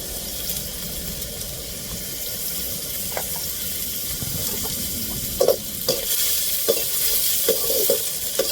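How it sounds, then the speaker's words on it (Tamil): Chopped onions sautéing in a hot pan, a steady close sizzle with intermittent stirring scrapes and clinks of a utensil against the pan, no talking. "வெங்காயத்தை நல்லா வதக்கி வச்சிருக்கோம்"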